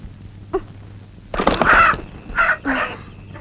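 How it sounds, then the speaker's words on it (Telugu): A rooster crows at midnight, a loud, close, harsh call broken into a few strained bursts, after a brief faint sound and a quiet stretch. "ఏంది అర్ధరాత్రి కోడి"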